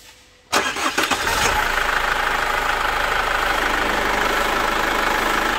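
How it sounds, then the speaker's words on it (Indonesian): A 2012 Chevrolet Captiva diesel engine cranks briefly after a short quiet moment, catches, and settles into a loud, steady, close-up idle. "Nah, sekarang coba kita starter mobilnya"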